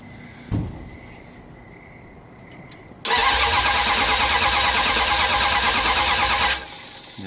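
A 1978 Dodge Power Wagon Macho, a truck with an electrical fault, gives a brief clunk, then after a pause its engine catches with a sudden loud roar and runs hard for several seconds before cutting off.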